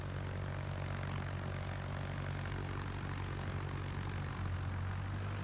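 Carrier aircraft in World of Warships, heard as a continuous, loud propeller-engine drone that holds steady throughout.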